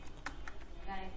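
Short bursts of keystrokes on a computer keyboard while writing a data-collection gig description, close and fairly quiet, with a low voice murmuring beneath the clicks.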